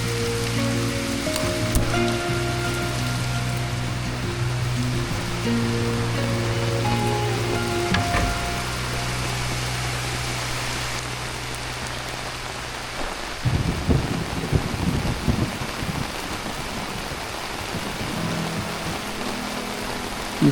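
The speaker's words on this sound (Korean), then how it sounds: "빗소리 듣는 건 참 좋아합니다." Heavy rain falls outside a capsule hotel in Gangnam, Seoul, as a dense, continuous hiss that stays loud and even throughout, with low rumbling tones early on and a few stronger splattering bursts later.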